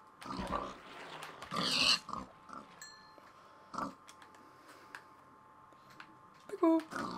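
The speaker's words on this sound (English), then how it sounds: "we got an island of pigs." Pigs oinking in the Minecraft video game on PS3, several short grunting bursts scattered through the clip, mixed with a person talking and other game sounds.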